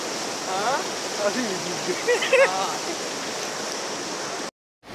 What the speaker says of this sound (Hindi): देखो इससे भी पानी निकल रहा है। देख देख कलवट बिल्कुल मुंह तक भरा हुआ है।